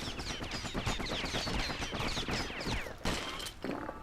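Dueling pistols in Bastion fire in rapid, dense bursts, a near-continuous clatter of sharp shots with a brief pause near the end, loud and close over game ambience.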